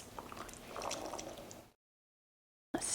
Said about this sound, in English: I'm also gonna pour in my chickpeas